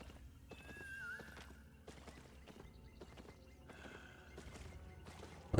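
Horse neighing with clip-clopping hooves in the video game Albion Online, a whinny rising over steady footfalls at moderate volume, with a louder burst at the very end.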